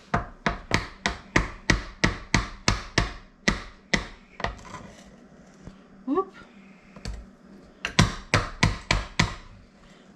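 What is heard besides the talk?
tapping electric mixer beater to knock off muffin batter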